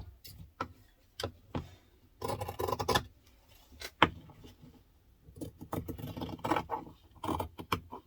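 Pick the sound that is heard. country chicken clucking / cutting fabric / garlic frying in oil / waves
cutting fabric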